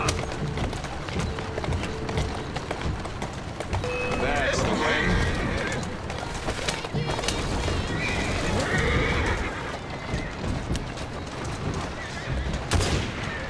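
Several loud horse whinnies ring out over a busy, noisy background in the video game Assassin's Creed Syndicate, with hoof clatter and sharp bangs mixed in throughout.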